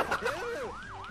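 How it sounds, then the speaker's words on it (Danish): A police car siren wails in rising and falling sweeps, fairly close, with voices talking over it. "der kommer en politibil"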